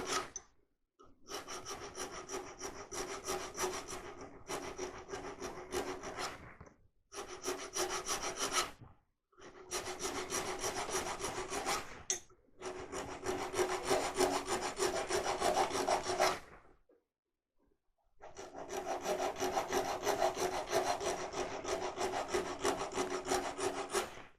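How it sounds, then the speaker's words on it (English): Steady passes of a wood rasp shaping a turned wooden goblet, loud and close, in four long bursts of rough scraping separated by short pauses. "So we continue with the rasp."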